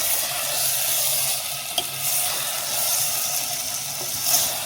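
Ginger garlic paste sizzles steadily in a pan for chicken curry while it is stirred, with a continuous close frying hiss and a soft clack of the spoon midway.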